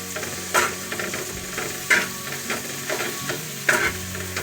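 Onion-tomato chutney with crushed peanuts stirred in a pan, with a few scraping strokes spaced out over a continuous gentle sizzle.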